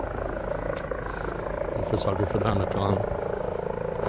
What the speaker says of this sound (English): You will hear the helicopter above me.